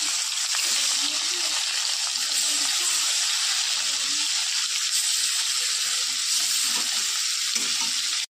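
Fish frying in oil in a pan for an Indian recipe, a steady, dense sizzle close up that runs unbroken before cutting off abruptly at the end.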